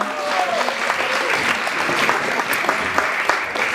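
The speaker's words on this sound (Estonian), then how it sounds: "Aplaus, jaa." A crowd's applause fills the room at an event, dense and continuous at a steady level, with faint voices mixed in underneath.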